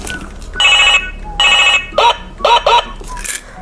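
A telephone rings in repeated bursts as a call is placed, the ringing tone loud and near, with short voiced beeps between rings.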